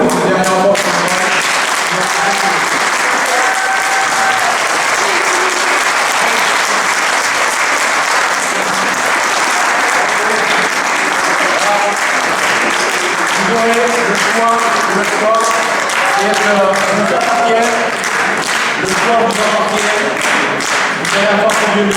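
Sustained applause from a seated audience at a community meeting, dense hand clapping held loud and steady for about twenty seconds with no pause.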